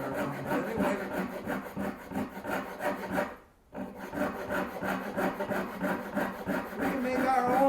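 A coping saw cuts through a wooden dowel for a handmade farmer yoyo, with steady close rhythmic rasping strokes, a brief pause midway, then sawing resuming.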